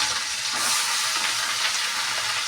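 Steady loud sizzling and hissing of Malabar spinach dropped into a pan of frying potatoes, onion and garlic, a continuous bright crackle with faint stirring scrapes and no talking.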